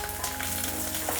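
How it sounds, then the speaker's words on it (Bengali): Small cut eggplant pieces frying in hot oil in a pan without any tempering spices, a steady close sizzle with fine crackling pops running evenly throughout. "বেগুনগুলো ভাজবো"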